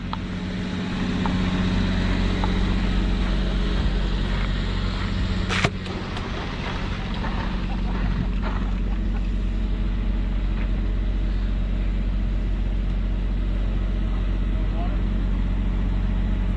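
A truck driving down from a mine produces a loud, steady low engine drone that persists throughout with little change, with a sharp knock partway through and people talking over it.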